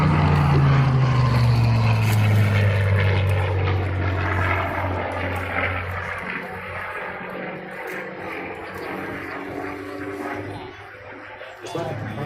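Propeller aircraft drone past at an air show in Dallas, a loud steady engine roar with a falling pitch as a plane passes, blended with crowd and wind noise throughout.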